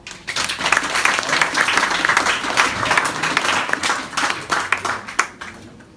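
An audience at a French-language event claps steadily and loudly for several seconds, a dense wash of many hands with no break.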